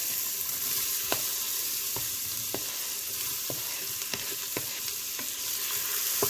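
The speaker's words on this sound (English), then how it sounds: "I'm gonna saute these guys down first, and then I'll get in the garlic" Onions sauté in bacon grease with an even, continuous sizzle close by, broken by sharp periodic clicks of a spoon stirring against the pan. No one speaks.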